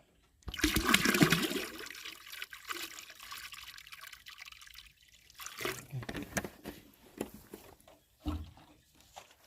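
Photosynthetic bacteria liquid poured into a 100-litre tank of water, a splashing gush that thins to trickles and drips, with a woman's speech over parts of it.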